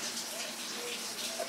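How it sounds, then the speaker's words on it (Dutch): Shower water running in a small ferry cabin, a soft, steady hiss of spray that continues evenly throughout at low level, with no talk. "We gaan even lekker douchen."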